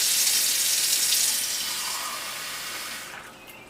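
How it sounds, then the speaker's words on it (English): Water pours into the base of a Cuban stovetop coffee maker up to the little pressure valve, a steady close splashing rush that gradually fades as the filling slows. "water in here, which you fill up to the little pressure valve,"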